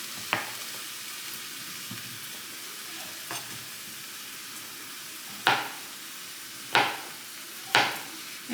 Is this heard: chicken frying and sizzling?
yes